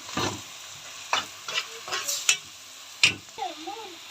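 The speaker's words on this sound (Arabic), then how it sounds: "انا نزلت بالكبد والقوانص بتاعه الحمام، تمام. وهديلها تشويحه كمان كده مع البصل على طول." Pigeon liver and gizzards sauté with onion in a hot pan, a steady close sizzle broken by several sharp scraping stirs of a spoon, with no talking.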